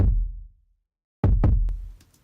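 An unprocessed kick drum sample from a pop instrumental remake, heard with its full top end: a deep thump, a silence, then a quick double hit with a bright click on the attacks and lingering low rumble, plus light ticks afterward.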